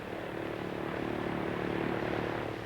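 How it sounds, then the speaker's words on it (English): Steady propeller airplane drone from early American Airlines aircraft, a continuous low engine hum that swells slightly and holds without a break. "They come and go, these planes, summer and winter, day and night"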